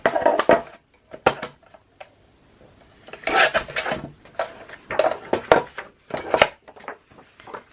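Scissors or a blade cutting paper for a Lunibloom scrapbook album, heard as short crisp snips and scraping strokes in uneven bursts with brief pauses between them, close and fairly loud with no talking.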